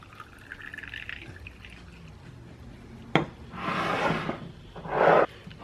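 Pickle brine for refrigerator pickles pours from a measuring glass into a jar in two close, splashy bursts of liquid, each a second or so long, after a single sharp knock and a quiet stretch.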